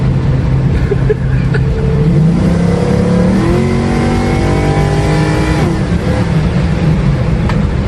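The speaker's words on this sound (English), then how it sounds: "That's about quarter throttle on this car." A 1969 Chevrolet Camaro Pro-Touring with an LS2 V8 pulls at quarter throttle, its engine note climbing through rising gear sweeps, loud and close from inside the car.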